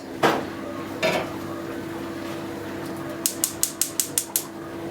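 A metal Turkish coffee pot clatters onto a stove with two knocks, followed by a quick run of light ticking clicks, like a gas burner igniting, over a low steady hum.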